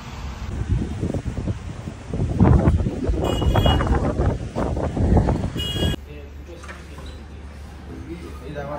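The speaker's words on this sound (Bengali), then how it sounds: "বাইরে হাওয়াটা ঢুকছে" Wind gusts in through the open window of a moving vehicle on the road from Puri to Chandrabhaga beach, roaring and buffeting loudly for several seconds before easing to a quieter hum, with people talking over it.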